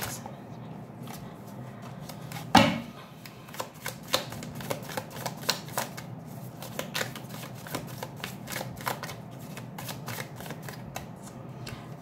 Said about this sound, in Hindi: Let me C with the tarot cards.